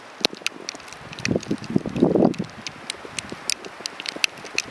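Footsteps crunch through snow in a cottage garden, a steady run of close, crisp crunches under gusty wind noise.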